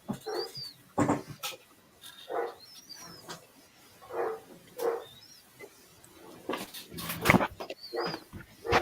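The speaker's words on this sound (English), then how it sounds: "the dogs are barking for table scraps because we just had dinner" Dogs bark for table scraps after dinner indoors, repeated short barks in irregular bursts, fairly close, with chirping birds faintly in the background.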